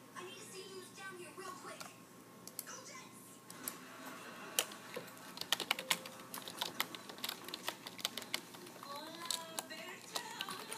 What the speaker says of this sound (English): I'm really bad at typing.